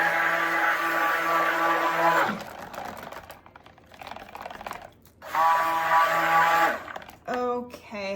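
A stick blender mixes cold process soap batter of oils, coconut milk and kaolin clay, running in two loud, steady whirring bursts separated by a quieter pause.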